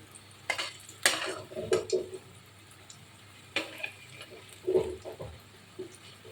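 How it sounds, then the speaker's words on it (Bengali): Dhoka lentil cakes frying in oil are gently turned with a spatula, giving scattered scrapes and clinks against the pan over a low, steady background hiss, with no one talking. "এগুলো একটুখানি খুব হালকা হাতে নেড়ে চেড়ে একটু ভেজে নেবে"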